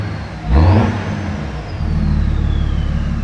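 A BMW 335d diesel engine, covers off, blips with one quick rev that swells loudly and falls back to a steady rumbling idle, close by with no talking.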